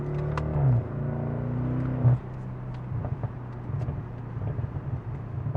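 A BMW 650i / Alpina B6 V8 with full exhaust and OEM downpipes rumbles and revs up, the deep exhaust note rising, then settles into a steady, throaty idle with small blips.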